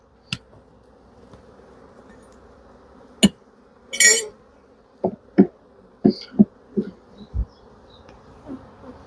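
Honey bees buzz around an open hive during a nuc transfer, a faint continuous hum with several loud close passes and thumps as bees fly up to a hand.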